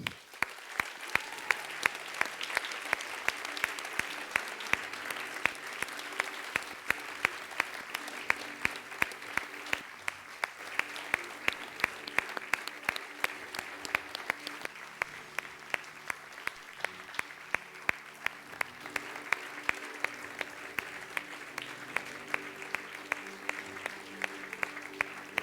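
Audience applause at an awards gala for a bronze medal presentation, with sustained, even clapping from a large crowd, steady for the full length, moderately distant, with a few sharper claps standing out.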